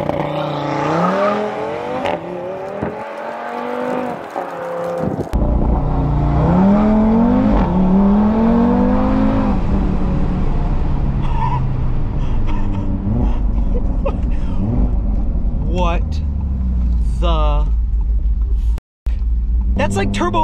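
A tuned Audi RS3 launches and accelerates hard, the engine note climbing in rising sweeps through several gears, with excited voices talking over the roar inside the car.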